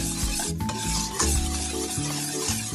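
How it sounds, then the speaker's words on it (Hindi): A whisk scrapes and stirs through soup seasoned with black pepper and salt, making loud, close, continuous swishing and rasping strokes with a rough rhythm and no one speaking. "फिर एक दफ़ा फिर इसे अच्छे से विस्क करेंगे"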